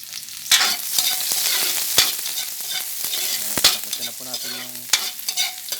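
Onion sautéing in a pan for a taro-leaf coconut dish, an ongoing sizzle punctuated by sharp utensil scrapes and taps as it is stirred.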